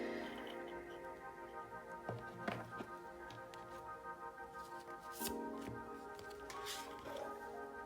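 Tarot cards being shuffled, with soft flicks and taps of the deck under quiet background music, a few sharper riffles standing out near the end.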